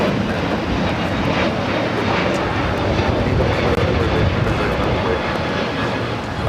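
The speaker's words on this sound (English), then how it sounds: "JetBlue Airways Flight 424 heading to JFK in the A321 Neo" A JetBlue Airbus A321neo jet airliner at LAX, bound for JFK, roars with a loud, continuous broadband rush of engine noise that holds steady throughout, with no voices.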